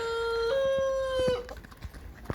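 A little show rooster crows once, close and clear, in a sustained call that ends with a few soft clucks and thumps.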